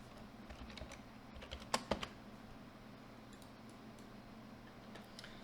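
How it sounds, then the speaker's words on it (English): Typing on a computer keyboard, a quiet run of soft key clicks with a few sharper taps near the middle, alone at low level. "we're just going to try typing this in."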